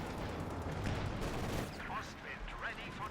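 Infantry gunfire in a competitive video game tournament match on the Faymonville Approach map: a dense, continuous rattle of rifle and machine-gun shots from the mid lane, with a voice talking over the battle.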